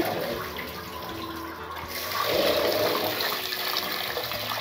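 Basmati rice being washed in water, a continuous sloshing and rushing of water that swells louder midway, close and steady with no voices.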